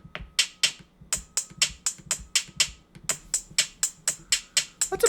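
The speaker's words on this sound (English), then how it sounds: "And an even higher pitch is the hi-hat." Quick, bright hi-hat ticks repeat in an even, fast rhythm over a light drum groove, clear and close with no talking.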